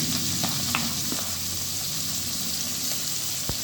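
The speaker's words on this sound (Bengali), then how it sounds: "এরপরে আমি পেঁয়াজ দিয়ে দিচ্ছি তেলের মধ্যে।" Onions dropped into hot oil tempered with cinnamon and cloves, a dense continuous sizzle with occasional stirring scrapes and small clicks close by.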